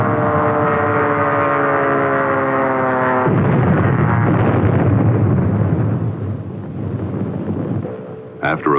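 Aerial bombs bursting around the battleship Ostfriesland in archival film, a loud rumbling roar of blasts and water thundering on, first under a droning hum, then alone and louder.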